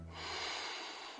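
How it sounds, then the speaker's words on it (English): One big, long sniff of breath, broad and airy, lasting about a second at close range with no talking. "The cat took a big sniff."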